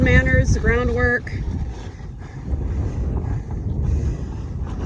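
Wind gusting hard across an outdoor microphone on a windy day, a continuous low buffeting roar that follows a few seconds of someone talking.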